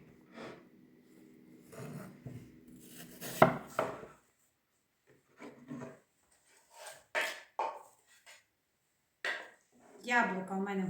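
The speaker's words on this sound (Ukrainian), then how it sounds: "вирізаю серцевину і буду нарізати на такі соломки" Knife cutting through a firm apple into thin strips in short bursts of crisp slicing strokes, close by, with quiet pauses between cuts.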